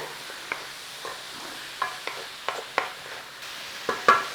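Vegetables seasoned with black pepper being stirred in a pan, a series of spoon scrapes and clacks against the metal over a soft background sizzle, growing a little louder toward the end.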